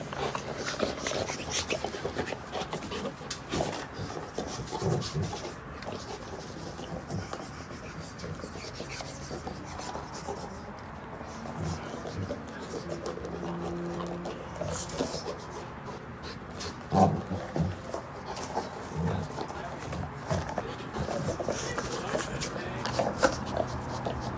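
Rottweiler chewing a plastic dental chew toy, giving irregular rubbing, scraping and gnawing sounds that come and go close by, with a person talking over parts of it.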